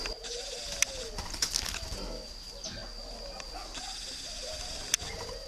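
Doves coo at a dove breeding farm among many birds, with soft repeated cooing, occasional wing flutters and sharp clicks over a low background murmur.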